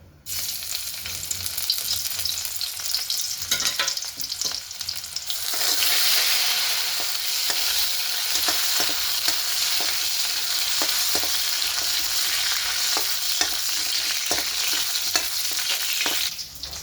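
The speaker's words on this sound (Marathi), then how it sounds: "तर कढईत तेल टाकलं" Garlic hits hot oil in a wok, starting with scattered taps and clatter before a loud, sustained sizzle sets in, with crackles and utensil knocks as it is stirred.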